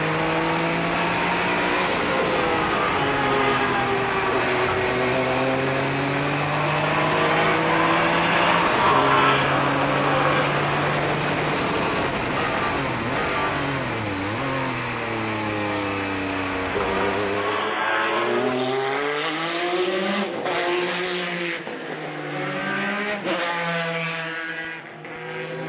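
A 1990 TRUST Porsche 962/C race car screams past on track at the Rolex Monterey Motorsports Reunion, its loud, steady engine roar sweeping down in pitch as it passes, followed by another close pass and continued high revs.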